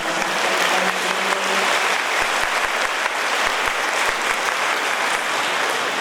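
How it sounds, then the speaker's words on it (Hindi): Dense, steady applause from a gathered audience at a Brahma Kumaris 25th anniversary celebration in Bardhaman, continuous clapping throughout with a brief faint tone near the start and no speech. "ये तो आप लोगों ने और भी अधिक ताली बजाई"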